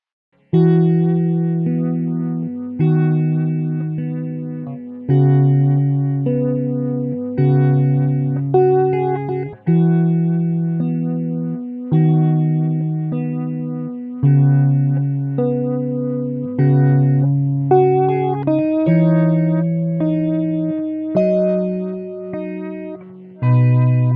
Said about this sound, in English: two types of the vibrato mode showcase this, including warbly vinyl and tape modes